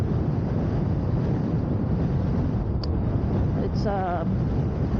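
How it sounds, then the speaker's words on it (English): Strong wind buffets the microphone of a rider on a Commander Pro electric unicycle, a constant roaring rush throughout, with a voice speaking briefly near the end. "So right now the wind is shoving me, but hey, carving through wind is working."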